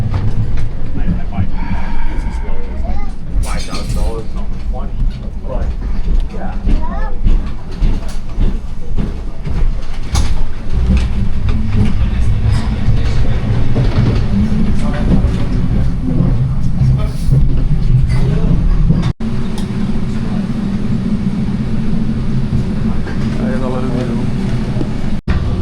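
Inside a moving train, a steady loud rumble mixes with rattling and clicks from the wheels on the track. People talk throughout over the noise.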